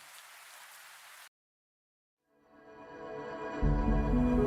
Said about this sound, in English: The sound of the night rain reverberated all around.